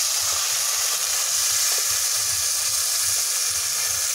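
Tomato paste hitting hot oil with frying onion and garlic in a home kitchen pan for egg curry, giving a steady, loud broadband sizzle throughout with soft low bubbling beneath and no talking.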